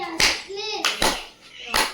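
Three sharp hand claps at an even pace in a children's counting game in a classroom, each a crisp near burst separated by a short sung or spoken vocal tone.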